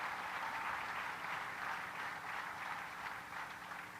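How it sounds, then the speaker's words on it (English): Audience applauding for first responders at a formal speaking event, a steady dense wash of clapping from a sizable crowd, moderately distant and sustained throughout. "can we give a round of applause to all of those who responded so swiftly"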